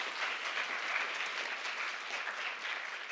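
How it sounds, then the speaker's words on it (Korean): Lecture audience at a Nobel Prize commentary talk applauds, a dense, steady burst of clapping from many hands that holds evenly for a few seconds with no voices. "좋은 강연 해주신 곽공 교수님께 다시 한번 큰 박수 부탁드립니다"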